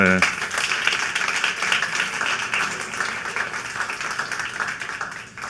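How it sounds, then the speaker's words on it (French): Audience at a Desjardins caisses event in Lanaudière supporting young entrepreneurs breaks into applause, a busy patter of many hands clapping that continues steadily, with some voice mixed in beneath. "je pense qu'on peut donner une main d'applaudissement"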